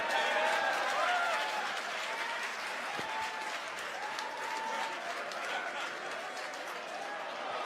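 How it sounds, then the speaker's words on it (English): A group of team members watching a SpaceX Falcon 9 launch claps and cheers in the background, steady applause with scattered shouts and faint voices mixed in. "if you guys can hear the cheering in the background from my team members"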